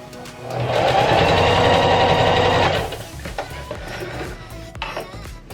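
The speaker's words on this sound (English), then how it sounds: "I'm gonna sew the back side right here" A sewing machine stitches the back side of a tulle tutu in one loud, rapid, buzzing run of about two seconds, then stops, leaving softer handling rustles and clicks of the fabric.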